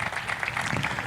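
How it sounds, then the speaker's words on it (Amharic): A crowd claps for the sub-city and district administration at a housing handover ceremony. The applause is a steady, dense patter with no break, only about a second long. "ለክፍለ ከተማውና ለወረዳው ጭብጨባ ያስፈልገዋል"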